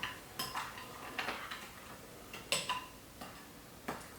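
A utensil stirs a ham and sauce mixture in a dish, giving light scraping clinks and taps at an irregular, unhurried pace, close and fairly quiet with no talking.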